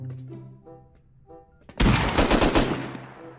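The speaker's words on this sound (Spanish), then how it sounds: "Me está dando con escopeta, bro" Shotgun fire in the game Rust, a sudden burst of loud, rapid blasts that follows quieter talk-like tones and then fades.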